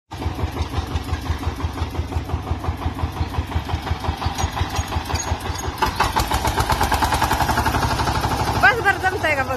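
A farm tractor's engine runs nearby with a loud, steady low chugging rhythm that rises slightly in intensity partway through.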